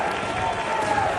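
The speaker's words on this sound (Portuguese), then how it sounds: "E todo mundo vaiando eles aqui." A crowd boos politicians at a socialist gathering in Brazil, a dense and continuous roar of many voices that stays loud and unbroken through a brief moment.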